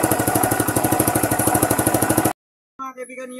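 Motorcycle engine running after a battery-charging repair, a loud close rapid chugging idle with a steady pulsing rhythm that cuts off abruptly, followed by a brief silence and then a person talking.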